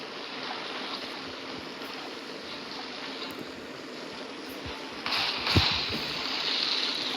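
A boat moving across water in the Blox Fruits video game makes a steady, rushing wash of waves and spray that swells slightly louder near the end, continuous and fairly close, with no talking.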